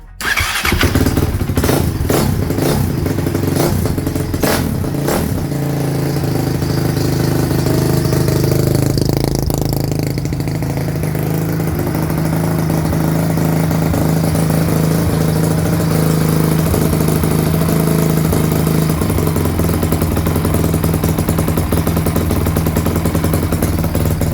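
A Honda CRF-X 450 motorcycle engine that sat in a barn for a year starts up with a few sharp cranking bursts, catches, then settles into a loud, steady close-up idle with no voices.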